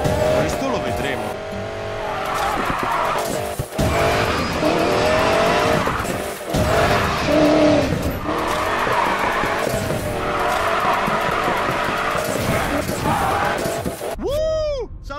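Car drifting in the Need for Speed Payback video game, engine revving as tires squeal and skid in long sweeping slides, loud and continuous, with brief gaps and voices talking over parts of it.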